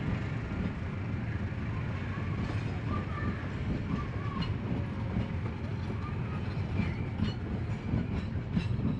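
A train rumbles steadily past the Pramuka railroad crossing near Garut, its wheels clattering continuously at close range, loud and unbroken throughout.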